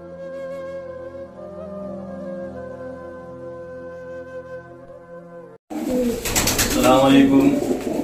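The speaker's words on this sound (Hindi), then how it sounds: "अच्छा शौक, खूबसूरत कबूतर भी हैं" Rampuri pigeons coo on a rooftop in Rampur: soft, repeated cooing notes over a quiet background, then a sudden louder burst of fluttering and close activity near the end.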